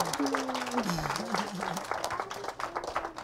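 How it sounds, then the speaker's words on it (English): Applause from an audience after a nature program segment on barn owls, a steady crackling patter of clapping with a tonal whistle-like sound and some voices mixed in, fairly close. "how about a big round of applause for Jagar and for Jackie as well?"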